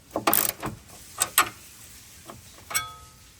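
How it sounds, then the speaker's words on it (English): Socket wrench working on tight 13 mm car battery bolts on a 2021+ GMC Yukon or Chevrolet Tahoe, a few sharp close ratchet clicks and metallic snaps in short bursts with gaps. "These bolts are 13 millimeter. Just get your socket and crack them loose."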